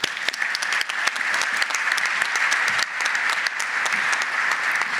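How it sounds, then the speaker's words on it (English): An audience at a scholars breakfast gives scholarship recipients another round of applause, a steady, fairly loud patter of many hands with distinct individual claps standing out, sustained without speech. "Please just give them another round of applause."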